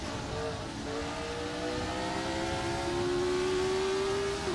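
Race car engine in Assetto Corsa online sim racing, a steady high-pitched drone climbing slowly in pitch as the car accelerates, close and continuous with no talk.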